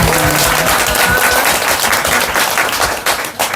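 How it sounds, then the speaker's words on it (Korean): Audience applause, a dense roar of many hands clapping steadily, loud and continuous, tapering slightly toward the end. "우리 꼬마 유진이한테 큰 박수 올립니다."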